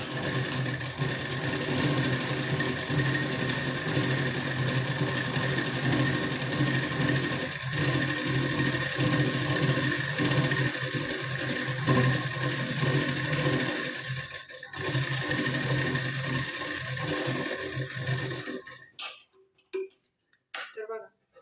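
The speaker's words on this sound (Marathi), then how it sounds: "इथे मी टीप देऊन घेते आता" A sewing machine stitches a blouse seam, running loud and continuous with a rapid mechanical chatter for most of the stretch. It then stops, leaving a few short clicks and handling sounds.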